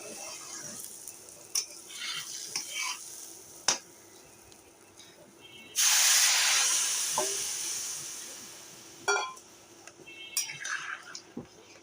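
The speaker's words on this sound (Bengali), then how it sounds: "আর এখন আমি জল দিয়ে দেবো" Water poured into a hot pan of fried vegetarian khichuri sets off a loud burst of steamy hissing that fades slowly, with scattered stirring scrapes before and after.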